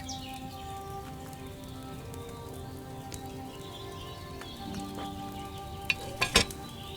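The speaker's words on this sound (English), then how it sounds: "Hear that bubbling? It's boiling." Potion cauldron bubbling as it boils over a flame in Kingdom Come Deliverance II, a steady soft simmering crackle with faint pops throughout, ending in a few brief louder bursts.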